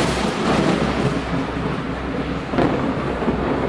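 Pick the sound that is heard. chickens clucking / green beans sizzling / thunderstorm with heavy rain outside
thunderstorm with heavy rain outside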